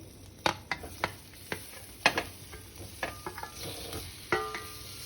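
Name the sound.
stirring paneer cubes into masala in a pan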